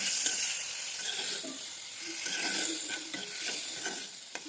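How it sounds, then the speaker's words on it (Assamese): Star fruit pieces frying in a pan with salt and turmeric, a quiet close sizzle with soft scraping stirs and small spatula taps, steady and low, heard alone without talk. "এতিয়া এনেকৈ ভাজি থাকিলে হৈ যাব আৰু।"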